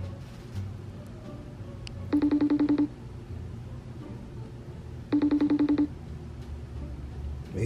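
Two bursts of phone ringback tone, each under a second and about three seconds apart, sound over a low steady background while a call is dialed out.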